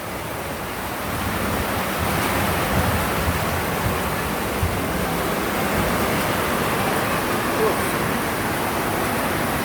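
A dense, steady roar of heavy rain and an overflowing river in Montalban, Rizal, Philippines fills the clip, constant and loud throughout with no breaks.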